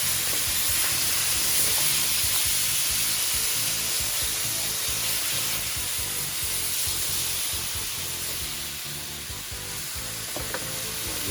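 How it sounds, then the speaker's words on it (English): Beef deep frying in smoking-hot oil gives a loud, steady sizzle and hiss with dense crackling bubbles that runs unbroken for the whole stretch, close and with no talk. "We're gonna actually start deep frying all this."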